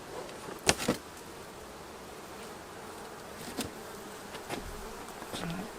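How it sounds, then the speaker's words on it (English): Honey bees humming steadily inside an opened backyard hive, a continuous close buzz with a few louder passes of insects flying near. "So let's have a look inside."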